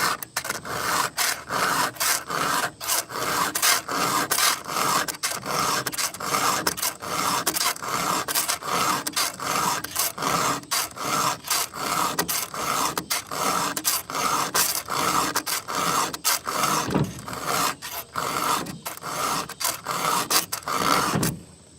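A chainsaw bar being sharpened with a file, steady rhythmic rasping strokes repeating fast and loud, close by, with no talk.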